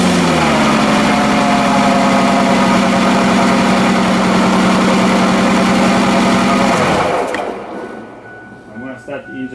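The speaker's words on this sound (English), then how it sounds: "So now I'm gonna start the engine." A Ford Freestyle's engine idles with a steady, close, even hum for about seven seconds, then cuts off and fades to near quiet.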